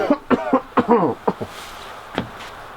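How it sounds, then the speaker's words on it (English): A burst of several dry, hacking coughs in quick succession, close and fairly loud, followed by a pause and one more cough. "Had this dry cough for a few days now."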